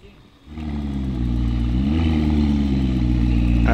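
A Lamborghini sports car engine runs loud and close, rising from a brief low start into a sustained, building rev with a deep harmonic roar that climbs in pitch and holds steady to the end.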